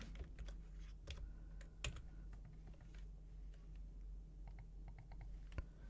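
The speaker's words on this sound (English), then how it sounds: "mash the keyboard a bit" Keys mashed on a computer keyboard, with irregular bursts of clicky taps and clacks over a low steady hum, quiet and close, with no talk.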